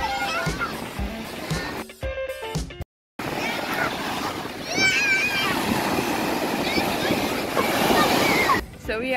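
Ocean surf rolls onto Haeundae Beach in Busan during a crowded sand festival, a steady loud wash of breaking waves with wind buffeting the microphone and a brief dropout midway.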